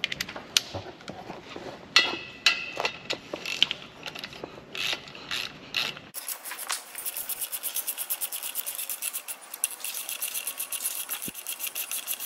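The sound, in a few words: ratchet wrench tightening 12 mm prop shaft bolts to 55 foot-pounds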